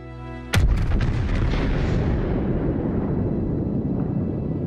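Yamato battleship main guns firing a salvo in World of Warships: a single massive, close boom that rolls into a long, thundering rumble fading over several seconds, with no talk.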